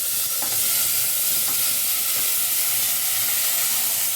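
Ingredients fry in two teaspoons of hot oil while a tomato pickle is made, a steady loud sizzle and hiss that runs through the whole stretch with no talk.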